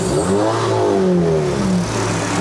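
A tuned Honda City GN5 hatchback with a 1.5-litre engine, driven on a mountain run in Malaysia, revs up loudly and steadily, its engine tones climbing and falling continuously from close by.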